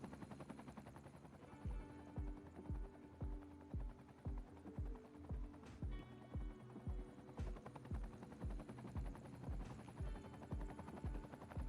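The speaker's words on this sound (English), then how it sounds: "Where's that helicopter going?" A helicopter in Cities Skylines II passes nearby, its rotor thumping in a steady rapid rhythm over a low engine hum, fairly loud and alone.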